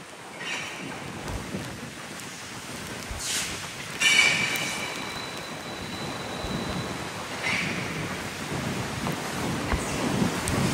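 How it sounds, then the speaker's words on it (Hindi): Heavy rain pours steadily over the sea beside a cruise ship at Coco Cay in the Bahamas, mixed with wind and waves washing in, a broad continuous hiss with a few louder gusts. "और बारिश भी तेज़ हो गई है।"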